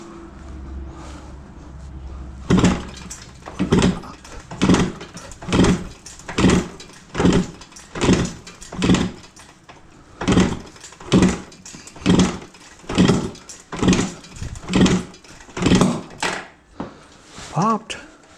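Rhythmic chuffing of a 1965 Yamaha YDS3C motorcycle engine being kicked or cranked over without starting, about a dozen even compression pulses close by, followed by a brief voice at the end.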